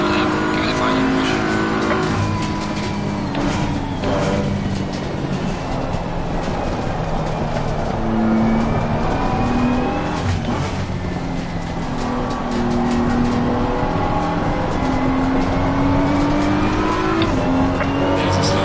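Race cars roar continuously through a racing video game on the final lap, engine whines rising and falling as cars pass, loud and steady throughout with no pause.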